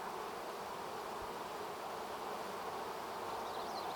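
A steady, dense hum of many honeybees buzzing close by at a hive, continuous and unbroken with no voices.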